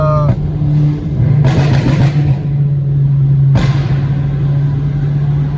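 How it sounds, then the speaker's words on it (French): Loud engine and exhaust of a stage 2 Volkswagen Golf 5 GTI making about 280 hp, driving through a tunnel, with a steady drone broken by two sharp bursts of revving that ring out in the enclosed space. "je vais vous laisser entendre un peu le bruit du moteur parce que là on va passer un tunnel"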